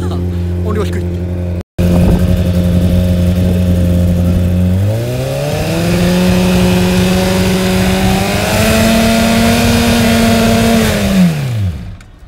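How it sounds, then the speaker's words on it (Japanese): A warmed-up race car engine at the Sportsland SUGO circuit holds a loud steady idle, then revs up to a higher constant pitch for several seconds during a noise-level check before dropping back down, all close by. "エンジンかけて温めておいた方が音量低いって。"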